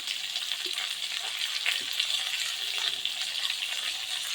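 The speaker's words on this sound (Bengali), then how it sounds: "মাছের তেলেই আমি আলুটাকে ভাজবো।" Potatoes frying in fish oil with turmeric and salt in a pan, giving a steady, close, continuous sizzle with a few faint clinks and stirring noises, with no talking.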